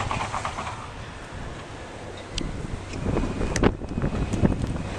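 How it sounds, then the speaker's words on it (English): Strong wind gusting across a snowy dairy farm, a steady roaring rush that swells louder toward the end, with scattered knocks and rattles close to the microphone. "Wind speed probably going like 150 miles per hour."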